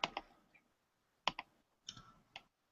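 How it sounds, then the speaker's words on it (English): Computer keyboard typing: a few sparse, faint key clicks in small bursts, separated by a pause of about a second, with no talk. "She's typing something."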